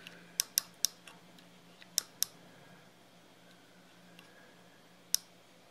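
Sharp, sparse metallic clicks from a digital mechanical micrometer as it is loosened, several quick ticks early on, then two more and a final click after a quiet gap.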